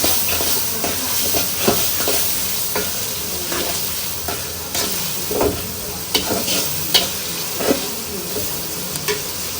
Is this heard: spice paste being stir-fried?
yes